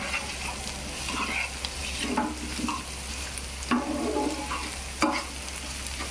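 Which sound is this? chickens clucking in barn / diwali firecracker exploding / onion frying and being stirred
onion frying and being stirred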